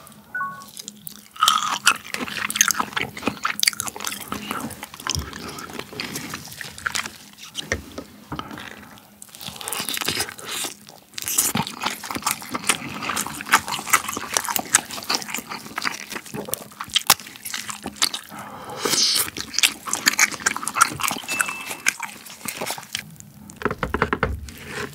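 Frozen king crab bitten and chewed up close, with crisp icy crunches, wet squishing and slurping in an irregular rhythm, loud and intimate with no talking.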